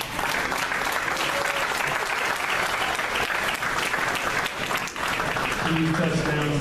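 Steady, loud applause from a crowd at a high school homecoming event honouring a football player, continuous for several seconds with voices faintly underneath.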